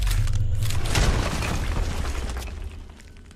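A wall blasting apart in Deus Ex: Human Revolution, one loud close boom with a crumbling rumble that fades over a few seconds, with no talking.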